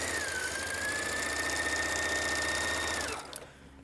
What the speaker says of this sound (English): so I'm just sewing at a scant 5/8